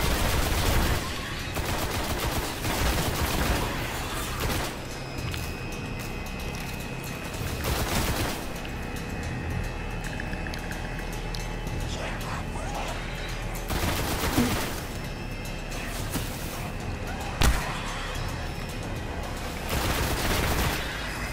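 Dense shotgun and other gunfire blasts in the video game Destiny, with repeated loud shots and booms layered over a continuous game soundtrack and effects, with no talking.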